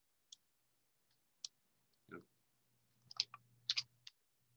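Computer mouse clicks come in sharp, isolated taps, a few spaced singles and then a quick cluster, close to the microphone, with a short murmur of speech between them.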